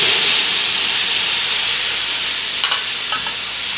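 Tomatoes tipped into a pan of hot spices on a high flame for a potato and aubergine curry give a loud, dense, continuous hiss. A couple of faint scrapes come near the end, and no one talks.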